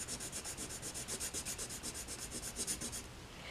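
Derwent Artists colored pencil in emerald green rubbing dryly across paper, a steady rhythmic scratch of repeated short strokes, close and fairly quiet, with no talking.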